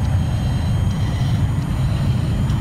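Steady low roar of an attack jet engine in Battlefield 4 on the Golmud map, a continuous broadband rumble that holds level throughout with no voices.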